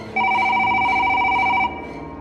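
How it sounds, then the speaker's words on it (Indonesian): An old house telephone rings with a bright, steady electronic trill that sounds continuously for about one and a half seconds, loud and close, over a faint room background, then stops. "Telepon rumah tua itu tiba-tiba berdering."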